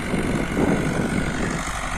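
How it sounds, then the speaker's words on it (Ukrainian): An MTZ 80 tractor engine drones loudly and steadily while driving in sixth gear, a dense continuous rumble close by with no talk. "Трактор входить на шостій робочій швидкості."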